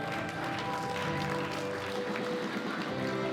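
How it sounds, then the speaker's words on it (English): Sustained crowd applause for a medalist at a junior world powerlifting championship, a dense clapping wash from an arena audience that continues steadily from start to finish. "Give Kimmy Johnson a round of applause."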